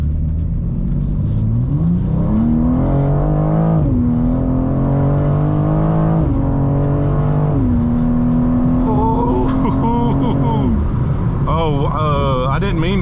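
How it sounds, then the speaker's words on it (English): A BMW M2 accelerates hard up a highway on-ramp, its engine note climbing loud and close through several distinct gear shifts, with people talking inside the cabin over the roar. "I hope everybody was able to pick up the acceleration"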